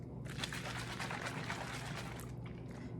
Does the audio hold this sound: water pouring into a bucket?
yes